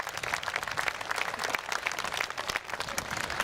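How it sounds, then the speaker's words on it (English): Applause from a crowd after a WWII battle reenactment at a military show in Paddock Wood, a steady dense patter of clapping at moderate distance lasting the whole stretch, with no talk over it. "So give them a massive round of applause, ladies and gentlemen."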